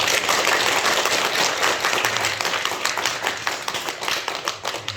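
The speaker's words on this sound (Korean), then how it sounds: "우리 박수로 환영해 주시죠" Congregation at a church service claps to welcome a missionary serving in Thailand, a dense sustained round of applause filling the whole stretch, slightly tapering toward the end.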